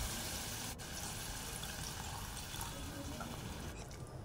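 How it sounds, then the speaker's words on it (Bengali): Water poured into a cooking pan of eel fish, producing a continuous splashing and gushing rush, close by with one brief break near the start. "এরপর পানি দিয়ে দিচ্ছি।"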